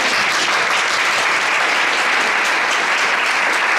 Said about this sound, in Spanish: emos llamar al frente a Cristina de la Mata, que la vamos a aplaudir.